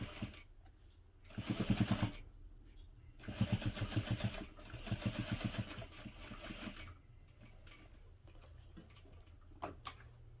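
A sewing machine stitches a clutch bag in bursts of rapid mechanical whirring and ticking, with pauses between runs and a few soft clicks around them, close and fairly quiet.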